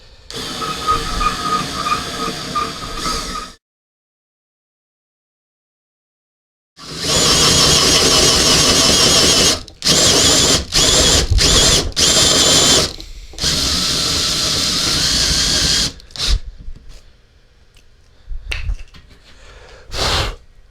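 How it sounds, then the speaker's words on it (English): A power drill with a clutch bores through a custom-built office desk, running in loud sustained bursts broken by a long silent pause and several short stop-start pulses before trailing off. "make sure the drill you're using has a clutch on it, because if this thing grabs, it can break your wrist"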